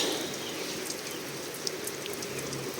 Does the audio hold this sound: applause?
no